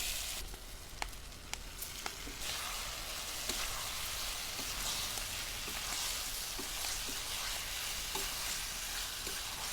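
Deep-fried cauliflower being stirred into tomato gravy in a pan, a steady soft sizzle with scattered scraping taps of the spoon, close and continuous.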